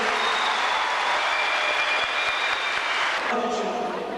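An audience at a diploma ceremony applauds, a steady, dense wash of clapping from a large crowd that stays even throughout before easing slightly near the end.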